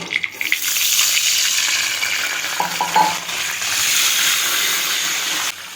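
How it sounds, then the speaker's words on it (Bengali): Chopped ginger and a splash of water hit a hot frying pan with black cumin in oil, bursting into a loud hissing sizzle with brief stirring clatter, the steam hiss holding steady and then cutting off abruptly. "এবার এর মধ্যে দিয়ে দিচ্ছি 1 চামচ আদা কুচি, সামান্য জল।"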